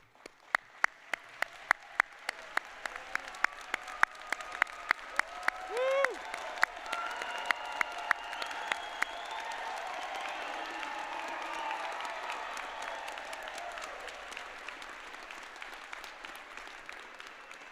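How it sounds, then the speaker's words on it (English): Audience at a Rutgers Business School MBA and graduate convocation applauding and cheering the 2023 graduating class, starting with scattered loud claps that swell into sustained applause with cheers and whoops from a large crowd. "please rise, as we applaud and cheer on the graduating class of 2023"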